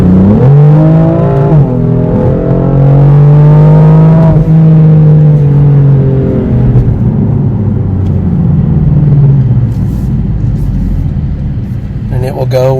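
A BMW M4 with an automatic transmission is heard from inside, its engine loud and droning as the pitch rises and falls through gear changes, with the sound easing off toward the end.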